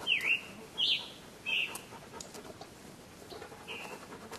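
Scarlet Tanager singing in the deep woods, three clear bright phrases close together, then a fainter fourth after a pause, over quiet rustling background.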